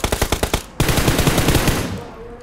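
Automatic gunfire in a mobile battle-royale shooter, a rapid string of loud close bursts that break into a denser, sustained rattle of shots fading toward the end.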